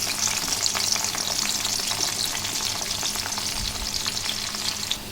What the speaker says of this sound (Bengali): মাছ ভাজার জন্য এখন পেঁয়াজটা ভেজে নেব।